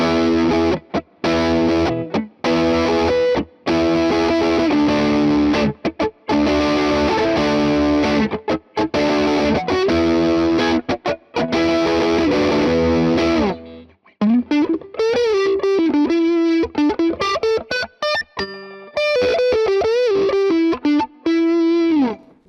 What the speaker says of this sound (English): here's some overdriven tones